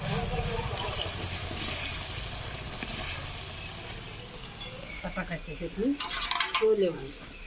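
Finely blended tomato paste stirs and fries in hot oil in a pan for a Vidarbha-style sole vange curry, with a steady soft sizzle, scraping strokes and a few clinks of a spoon against the pan near the end.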